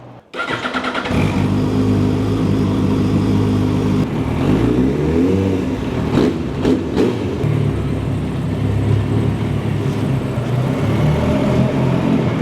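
A motorcycle engine starts and runs loudly close by, with rising and falling revs throughout and no talking.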